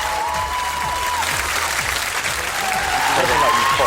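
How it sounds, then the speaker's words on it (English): Studio audience at a televised singing competition results show applauding steadily, a dense wash of clapping filling the room with no break across the whole span. "Enjoy that applause, Scott."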